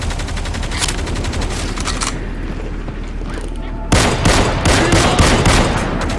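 Rapid repeated shotgun blasts in Left 4 Dead 2, loud and close, a dense volley of overlapping shots that turns heavier and more forceful after a brief easing, with chaotic combat noise throughout.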